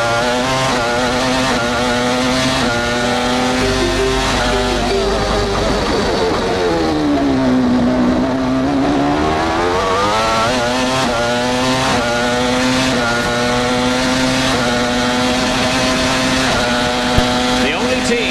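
Jordan Peugeot V10 Formula 1 car from 1995 heard onboard at Canada, a loud high-pitched wail rising and falling through quick seven-speed gear changes, with commentary voices underneath.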